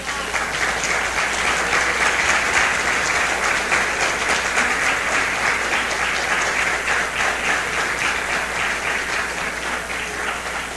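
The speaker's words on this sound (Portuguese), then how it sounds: "Pode aplaudir a Jesus." Church congregation clapping together during a family sermon, a steady sustained wash of applause from a large crowd that holds at even loudness throughout without breaks.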